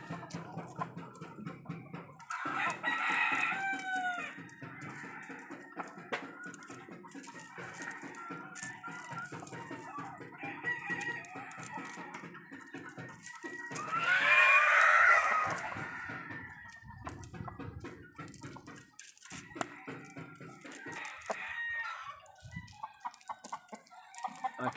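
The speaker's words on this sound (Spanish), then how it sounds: "Gallo con brillo, un gallo hermoso, Dios lo bendiga, mírenlo ahí." A handsome rooster, shown for sale, clucks in short bursts and lets out one loud crow near the middle, close by and clear over a quiet farmyard background.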